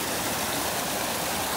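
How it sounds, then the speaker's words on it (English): Flood water pours over a man-made concrete waterfall at a camp, a dense, steady rushing roar heard up close throughout. "But then this is the waterfall we put in."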